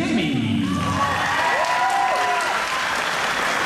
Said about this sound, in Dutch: dames en heren, natuurlijk weer een groot applaus voor Quinten en Jamie.